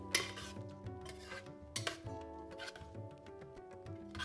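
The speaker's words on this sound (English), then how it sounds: "give everything a good mix and cook for 2 to 3 minutes" Curry shrimp being stirred in a pot in a home kitchen, spoon clinking and scraping against the metal in quiet irregular knocks, faint and close with no voices.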